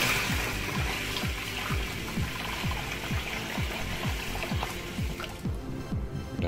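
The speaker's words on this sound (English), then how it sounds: "So I'm gonna wash these off now." Water runs and trickles steadily as Jerusalem peas are rinsed for Jamaican rice and peas, with a constant splashing wash and a rapid rhythmic pattern of bubbling drips underneath.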